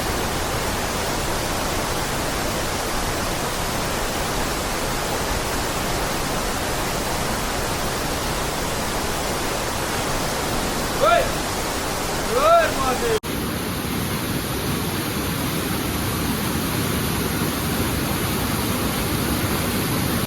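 The Amate waterfall near Belagavi roars steadily with a dense, unbroken wash of falling water that fills the whole scene, close by, with only a brief shift in the sound near the end.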